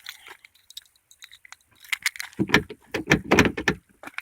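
A stiff car door is worked open by hand: scattered metallic clicks and rattles at first, then a burst of louder clunks and creaking thuds as it finally gives, close up with no talking.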